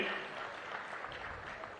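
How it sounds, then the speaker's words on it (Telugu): Dense applause from an audience at an official transport department meeting, loud and steady across the short stretch. "గట్టిగా చప్పట్లు కొట్టి అభినందించండి"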